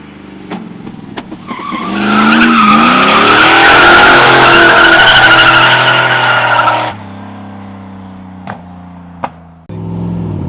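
An LS-swapped G-body car slides sideways across a road, its tires squealing loudly for about five seconds over a growling V8. The engine then settles into a deep, lumpy idle.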